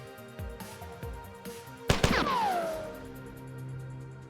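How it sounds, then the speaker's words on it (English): An explosion in the video game Marathon sets off one loud blast after a few soft thuds, and a ringing metallic tone falls away slowly after it. "Explosion."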